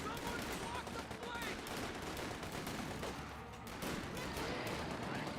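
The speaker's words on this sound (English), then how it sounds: "Wehrmacht sniper firing away" Rifle shots from a Wehrmacht sniper ring out in Company of Heroes 2, mixed into a dense, steady wash of battlefield gunfire and explosions that runs throughout without a break.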